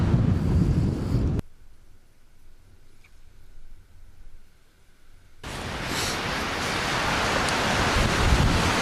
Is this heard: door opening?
no